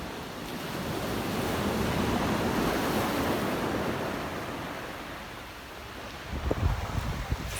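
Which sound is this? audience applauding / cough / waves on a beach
waves on a beach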